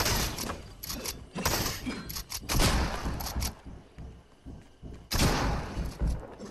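Gunshots in an online video game ring out as dense, overlapping bursts and heavy booms, loud and continuous with brief lulls between volleys.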